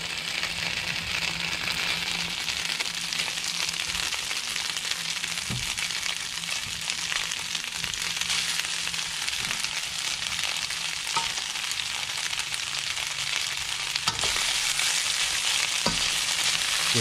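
Beef and noodles stir-frying in a hot pan, a steady loud sizzle running throughout with a few scraping stirs and clinks, no talk.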